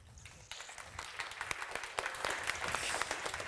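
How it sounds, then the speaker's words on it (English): An audience at a space conference applauds, a dense patter of clapping that builds steadily over a few seconds, heard from within the room at moderate level. "please give a round of applause to the observer of Cosmos, Martin Vejmelka."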